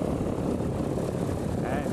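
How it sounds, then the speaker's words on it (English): Piper Cherokee 150 light aircraft engine at takeoff on a first solo flight, a steady loud propeller drone with no pauses. "The engine is firing up, and here he goes."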